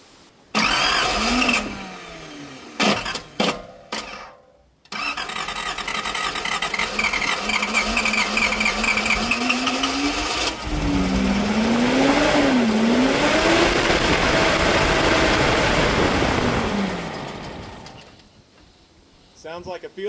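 A 1978 Datsun 280Z, back running after decades, cranks in short bursts, fires up, then revs in rising and falling waves before dropping off, with a voice talking over parts of it.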